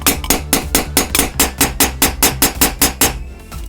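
Hammer striking a nail to dent metal on an armour piece, about fifteen loud, sharp, evenly spaced metallic blows in quick steady rhythm, close and alone.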